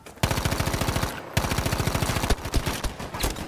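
An automatic gun fires in Battlefield V: three loud, close bursts of rapid, evenly spaced shots, separated by short pauses, with no talking.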